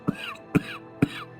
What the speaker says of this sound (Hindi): ये अचानक खांसी क्यों हो रही है मुझे?